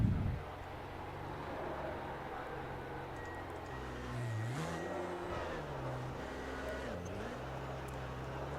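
Race car engines roar steadily in a sim racing game during burnouts, with pitch dips and swells as revs drop and climb, under a continuous mechanical drone.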